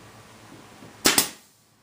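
A staple gun drives staples in two quick, sharp snapping shots in rapid succession, close and loud against a quiet background.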